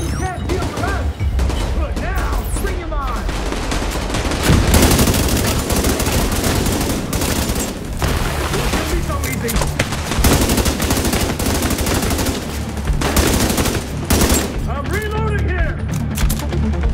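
Gunfire rattles through a firefight in The Division 2, loud repeated automatic bursts and single shots crackling across the whole stretch, with voices calling out over the shooting.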